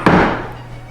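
A steel chisel is tapped into a marking gauge groove on a dovetail for a Queen Anne lowboy drawer. A single sharp, close knock rings briefly and fades.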